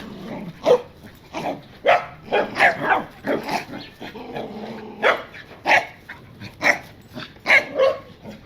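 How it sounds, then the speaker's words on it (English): Several dogs barking repeatedly in irregular bursts, loud and close, with a growl or whine mixed in, during a car parts install at a home garage. "Can you tell your dogs to calm down?"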